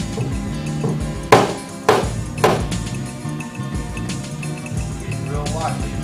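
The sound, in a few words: pick hammer knocking down car body metal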